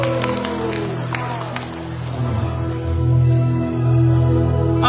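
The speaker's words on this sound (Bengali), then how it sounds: "মাদের জন্য জোরে একটা হাত তুলে করতালি" An audience at a Pohela Boishakh fair in New York claps for mothers on Mother's Day, steady applause and crowd noise swelling over several seconds, mixed with a music or PA hum.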